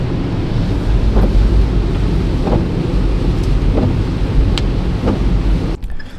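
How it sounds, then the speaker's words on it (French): Heavy rain pours down outdoors in French Polynesia, a loud, dense roar mixed with wind buffeting the microphone and a few louder gusts, continuous throughout with no speech. "il pleut à fond"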